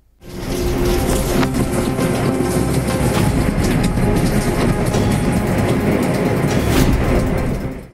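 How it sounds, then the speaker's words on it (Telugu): A train rumbles steadily along the rails, loud and close, with a constant heavy roar and faint rhythmic clatter throughout. "ఓ చేత్తో గొడుగు, మరో చేత్తో ట్రైన్ నడిపిస్తున్నారు ఓ లోకో పైలట్."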